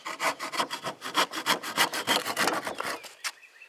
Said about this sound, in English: You can do this with a handsaw.